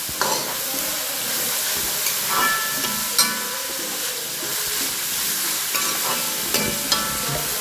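Chopped banana flower stir-fried in hot oil with onion for a thoran, giving a steady close sizzle with repeated scraping stirs and clatters across the pan, no talking.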